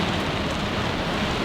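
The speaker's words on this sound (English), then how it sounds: "it is really raining right now. Like, it is an absolute downpour." Heavy rain pours down steadily in a storm around a truck camper, a dense, loud, unbroken hiss of drops drumming on the surface with no voices.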